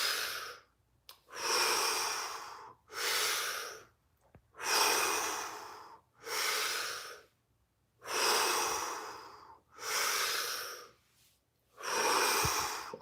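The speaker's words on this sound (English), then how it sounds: "Nice and deep circular breaths here." Deep circular breathing in a breath work session, a steady cycle of long, loud, airy inhales and exhales with short gaps between them, heard close and alone.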